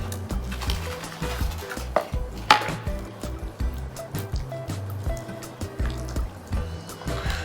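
Chicken tenders are dropped into a thin batter in a bowl, giving close, irregular wet sloshes and soft splats, with occasional clinks against the dish and no speech.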